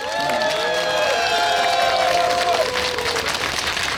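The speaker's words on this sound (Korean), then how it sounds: "박수 한번 쳐드릴까요?" Sustained applause and cheering from a crowd at an outdoor final election campaign rally at a Daegu intersection, dense clapping with shouts rising over it.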